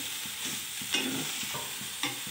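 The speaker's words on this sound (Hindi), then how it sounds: "और मसाले सब इसको हम मिलाते हैं" Spices are stirred into vegetables frying in a pan: a steady low sizzle broken by a few distinct scraping spoon strokes, close and alone with no voices.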